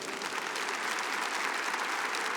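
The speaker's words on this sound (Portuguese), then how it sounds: "Dá uma salva de palmas ao Senhor." Church congregation giving a round of applause to the Lord during a service, steady dense clapping from many people at a constant level throughout, with no speech over it.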